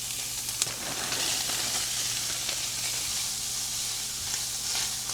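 Ground beef, softened onions, peas and carrots sizzle steadily in a single pan for a shepherd's pie, a constant close frying hiss with faint stirring scrapes and no talk.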